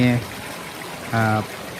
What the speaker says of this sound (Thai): นี่คือน้ำตกจำลองนะครับ ที่ผม เอามานะครับตั้งไว้ในบ้านนะครับ